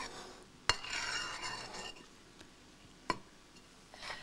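A spoon folds pudding mixture in a bowl, giving soft, close scraping and swishing with a couple of sharp clinks of metal against the bowl, fairly quiet and without talk.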